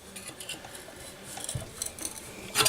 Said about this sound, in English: Now I'm going to just gently scrape the gaskets off.